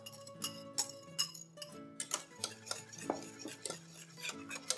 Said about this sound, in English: Whisk really well.